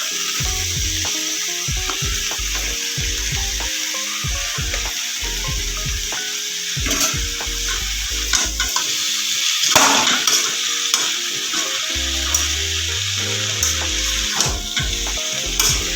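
Malabar spinach sizzles steadily in a hot pan as it is stirred and tossed, with repeated scraping and knocking from a spatula against the pan under a constant loud frying hiss and no talk.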